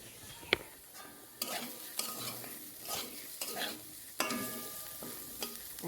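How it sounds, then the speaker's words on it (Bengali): Potatoes, onion and pumpkin peel frying in a pan with steady sizzling, broken by repeated scraping stirs of a spatula every second or so, close and moderately loud, no talking. "এই যে দেখো আলু দিয়ে, পেঁয়াজ দিয়ে আর কুমড়োর খোসা দিয়ে ভাজা করছি"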